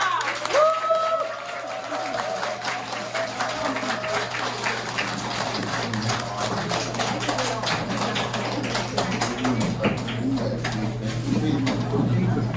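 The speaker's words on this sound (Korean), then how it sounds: "열정과 환영의 박수로 모시겠습니다" An audience at an invited lecture applauds to welcome a speaker, a sustained patter of clapping over a low steady hum, with voices and a few sharp taps mixed in.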